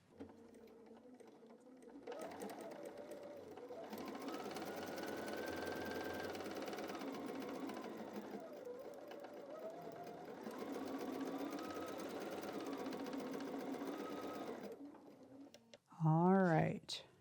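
A sewing machine stitches a fabric Christmas door banner with a steady, whirring motor hum in two long runs separated by a brief slowdown, followed by a short loud rattling burst near the end.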